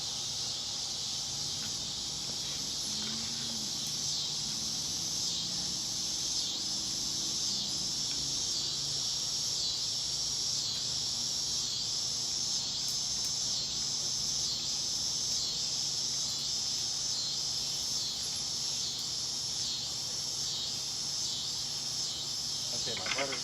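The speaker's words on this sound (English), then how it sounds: "Boy, the cicadas are loud, aren't they?" Loud, steady high-pitched cicada buzz fills an outdoor backyard cooking scene at a Big Green Egg grill, a continuous shrill drone running unbroken from start to finish with faint background sounds beneath.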